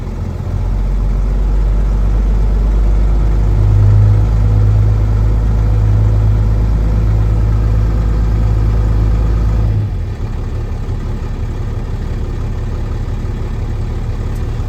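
An International 4900 truck idles to build air pressure, a loud steady low engine drone that shifts character around ten seconds in and continues as a lower, rougher idle, with no talking.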